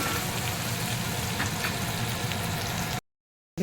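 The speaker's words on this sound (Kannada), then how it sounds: "ಒಂದು ಸ್ವಲ್ಪ ಈರುಳ್ಳಿ ಸ್ವಲ್ಪ ಫ್ರೈ ಆಗಲಿದೆ" Chopped onion frying in a pan with a little turmeric powder for Punjabi kadhi, giving a steady, close crackling sizzle for about three seconds before cutting to a brief silence near the end.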